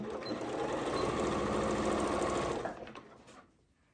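A sewing machine stitches a fabric gift bag in one steady, fast mechanical run, close and loud, then slows and stops.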